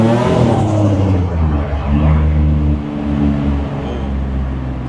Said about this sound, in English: Got a little tunnel coming up. Nah, I mean, get a little blow off noise